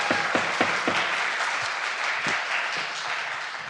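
Sustained audience applause fills a West Hollywood city council meeting chamber, dense broadband clapping with a few sharper individual claps standing out early on, steady and fairly loud throughout.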